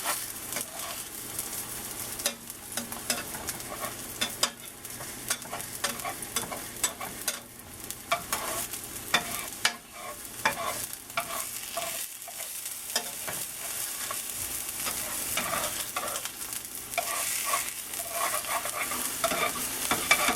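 Eggs frying in a pan for a sausage, egg and kale breakfast burrito, with a constant close sizzle and repeated scraping taps of a spatula pushing them around, growing busier toward the end with no talking.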